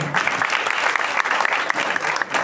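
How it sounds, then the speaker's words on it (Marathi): Loud, dense applause from a crowd at a felicitation during the closing ceremony of a sanskar class camp, steady and continuous throughout with no voices on top. "जोरदार टाळ्या."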